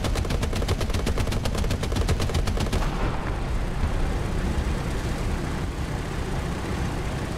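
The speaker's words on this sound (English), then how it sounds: "Bullets fired at me." Rapid automatic gunfire in the tank battle game War Thunder, a fast string of loud shots for about three seconds that gives way to a dense rumble of engine and battle noise.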